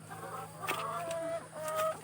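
Laying hens cluck nearby in a few short, uneven bursts over a faint steady hum, with no speech.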